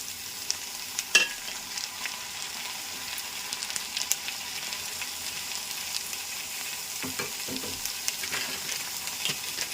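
Cucumber pieces added to onions already browned in a pan, frying for a dosakaya egur curry: a soft, continuous sizzle with occasional clicks and scrapes of stirring, fairly quiet and without any talk.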